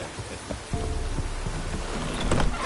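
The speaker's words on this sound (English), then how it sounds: "Looks like rain." Rain falling in the video game Witcher 3, a continuous soft hiss of rainfall with a few scattered thuds and taps, growing slightly louder toward the end.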